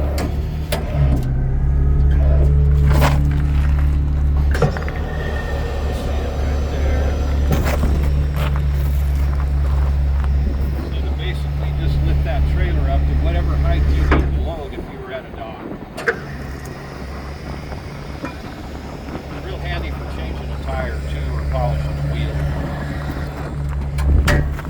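A Peterbilt 389 truck idles steadily with its PTO engaged for a Talbert trailer, a loud low diesel rumble running throughout, briefly dipping midway, with a person talking over it and some clanks and handling noises.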